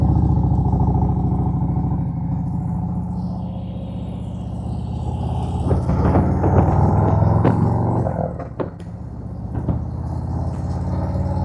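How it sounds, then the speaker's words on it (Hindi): Harley-Davidson touring motorcycle engine rumbling loud and close while riding on an open road, a steady deep drone with a few sharp clattering bursts near the end, no talking. "हार्ले की आपको पता है जैसे कि इंजन वाइब्रेट करता है काफ़ी"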